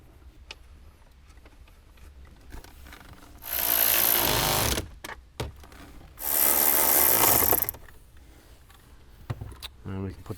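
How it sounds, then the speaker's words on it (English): A power driver spins two screws back into interior trim on a 2021-or-later Ford Bronco, two loud sustained whirring bursts of roughly one and a half seconds each, separated by quieter handling clicks and rustling. "Let's go ahead and put our 2 screws back in."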